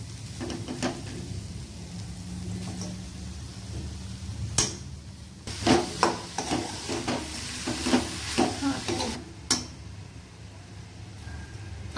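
Jaggery mixed into fried grated coconut in a pan for modak filling, with repeated spatula scrapes and knocks against the pan over a soft, continuous sizzle.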